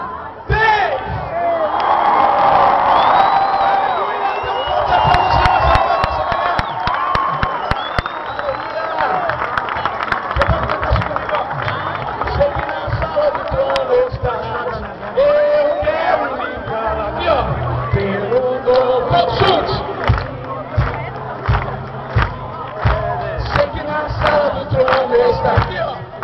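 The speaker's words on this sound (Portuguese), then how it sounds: "Depois você vai dar um brado de vitória bem forte pro Senhor" A church congregation at a baptism service shouts a loud, sustained victory cry to the Lord, with whoops and cheers swelling into a dense roar of many voices that holds steady for a long stretch.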